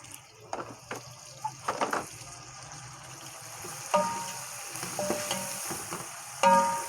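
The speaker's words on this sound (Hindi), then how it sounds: "ये मिर्च भी है हल्की सी फ्राई हो जाएगी।" Turmeric and red chili powder fry in oil in a pan with ginger paste while making chicken biryani. A soft, steady sizzle runs throughout, broken by sharp scraping and stirring clinks from a spoon against the pan.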